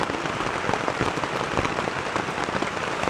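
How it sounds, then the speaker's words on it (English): Heavy rain pours steadily in the Red River Gorge, Kentucky, during a flash flood, a dense continuous hiss with scattered sharper drops hitting a surface close by. "Now it's just heavy rain. And more heavy rain."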